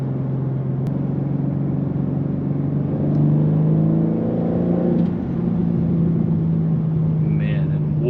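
A 2024 BMW M3 with a six-speed manual and a turbocharged engine, revving steadily as the turbos spool up, a loud, close, sustained drone that climbs slightly in pitch partway through.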